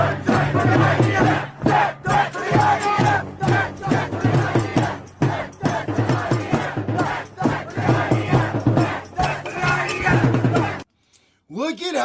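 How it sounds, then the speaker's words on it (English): A large rally crowd chants loudly and rhythmically in unison, dense and continuous with pulsing beats, before cutting off abruptly to a short quiet moment. "I'm going to bring back the hardest chant from 2025"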